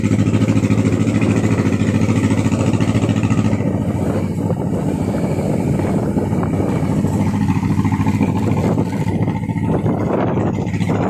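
A motorcycle ridden while its rider films, with a steady engine drone under heavy wind buffeting that continues loud and unbroken throughout.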